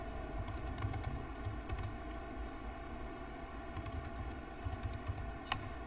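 Someone types a password on a computer keyboard; quiet, irregular bursts of key clicks with short pauses between them.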